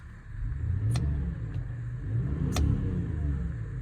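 A 2004 Subaru Legacy Outback 3.0R estate engine idles with a steady low rumble, rising in two short revs, with faint higher ticks above the drone.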